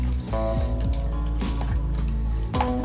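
Salad dressing being stirred in a bowl gives wet, squishy swirls and soft clinks from the utensil, repeating in a quick, uneven rhythm at close range, with no one talking.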